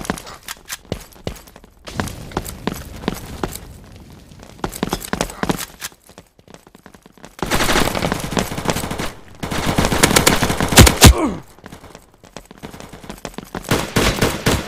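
Rapid automatic gunfire from the Hazmob online multiplayer FPS shooting game crackles in bursts, alternating between sharp rattling volleys and quieter stretches, loud and close throughout.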